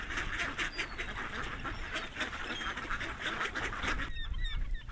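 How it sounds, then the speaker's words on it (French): A crowd of ducks or geese honks and quacks continuously, loud and dense, with overlapping calls throughout. "Mais les canards sont déjà là,"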